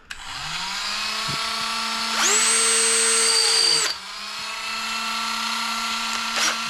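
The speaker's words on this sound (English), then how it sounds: "So I got me a little rougher wheel on my Dremel." Dremel rotary tool with a rougher wheel chamfering a small part for an HB Racing E819RS build, a high steady whine that rises louder as it bites in, then drops back with brief ticks.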